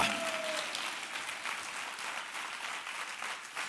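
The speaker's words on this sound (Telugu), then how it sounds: "చప్పట్లు కొట్టు గట్టిగా" A church congregation claps loudly during a Telugu Christian sermon, a sustained, evenly textured wash of applause heard at a moderate distance for several seconds without speech.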